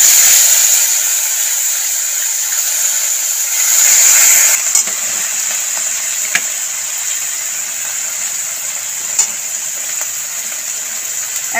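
Boiled onion paste sizzles in hot oil in a pan, a loud, steady, close frying hiss with a few faint clicks, and no one talking.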